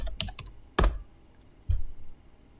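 Several key presses on a computer keyboard while entering a search term in SketchUp, heard as a quick cluster of clicks followed by two heavier, louder keystrokes, close and alone.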